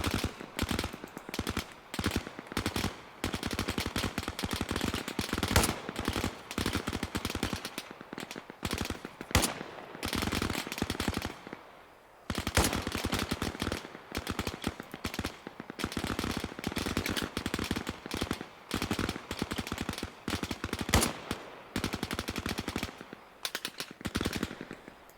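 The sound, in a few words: machine gun fire in the video game Arma Reforger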